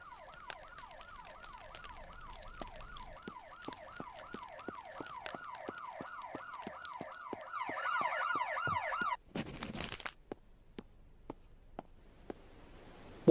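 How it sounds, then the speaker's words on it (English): A video game police siren wails, sweeping up and down repeatedly for several seconds, then cuts off into a burst of noise followed by scattered sharp clicks. "I think I heard sirens."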